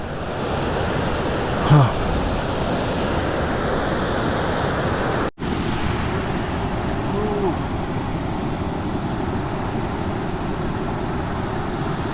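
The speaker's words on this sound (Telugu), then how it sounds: "Kumbhe water falls" Kumbe waterfall near Pune, Maharashtra, roars as a steady, loud broadband rush of falling water that fills the whole scene, with a brief soft thump near the start and a short dropout midway.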